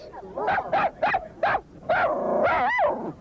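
Several dogs bark and yelp in quick succession at a mass walk of about 1,800 dogs in New York's Central Park, a rough chorus of overlapping barks and whines, fairly close and loud.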